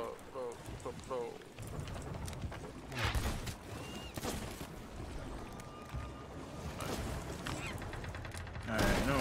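Rapid gunfire bursts from a shooting video game crackle in dense, repeated volleys under a faint background, with a person speaking at times over the shots.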